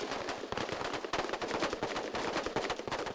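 Rapid, dense rifle fire from soldiers in Oklahoma Army National Guard predeployment training, a continuous crackling volley of overlapping shots heard at a distance for a few seconds with no talking.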